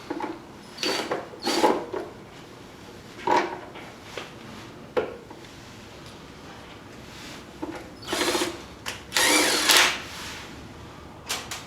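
A power drill drives timing cover bolts on a Suzuki Sidekick engine, sounding in short whirring bursts of a second or so, separated by quieter pauses, close and without talk.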